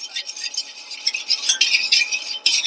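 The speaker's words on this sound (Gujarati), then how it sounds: "મીઠું તેલ અને બધું નાખી આપણે હલાવીશું બીટરથી" A beater whisks sugar, lemon salt, salt and oil in a bowl for Ahmedabadi nylon khaman gram flour batter, quick close scraping and clinking strokes in an irregular rhythm, no talk.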